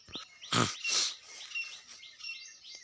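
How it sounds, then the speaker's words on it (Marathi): Several birds chirp and tweet nearby in short, scattered calls, with a couple of louder rustling bursts early on and no talking. "पक्ष्यांचा आवाज आला का बघा तुम्हाला"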